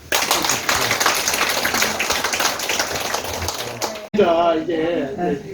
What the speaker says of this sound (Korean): 박수 한번 다시.